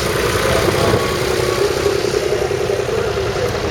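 A vintage Leyland tractor engine runs steadily at a country show parade in Gloucestershire, a close, continuous mid-pitched diesel idle with an even throb throughout.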